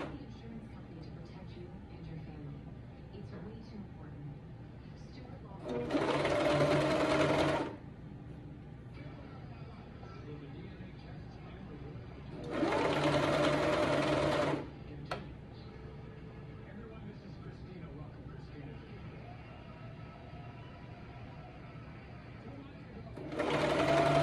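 A Brother 2340CV coverstitch machine hems spandex in three bursts of fast, steady stitching, each a few seconds long and loud and close, separated by quieter stretches of handling noise.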